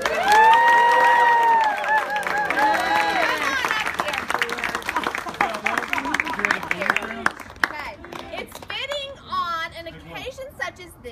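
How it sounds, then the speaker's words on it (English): Audience applause and cheering at a birthday party, a burst of clapping mixed with shouts and a loud voice at first, thinning into scattered claps and chatter toward the end. "Let's give him a big round of applause."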